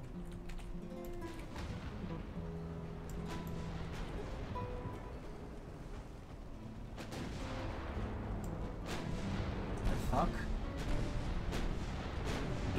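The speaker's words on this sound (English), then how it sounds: "Ships are firing at their proper targets now." Battleship guns fire in the naval strategy game Ultimate Admiral Dreadnoughts, with repeated heavy booms and crashes rolling over a dense, continuous rumble of battle. Game music plays underneath throughout.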